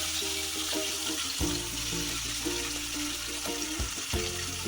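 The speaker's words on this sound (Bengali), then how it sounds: "তো একে একে আমি এবারে দিচ্ছি। দেখো, পেঁয়াজ কুচানো, রসুন, কাঁচা লঙ্কা, টমেটো আর এখানে আছে আদা বাটা।" Chopped onion, garlic, green chili, tomato and ginger paste frying in hot oil for eggless tadka dal, a steady close sizzle with a few stirring clatters, no voices.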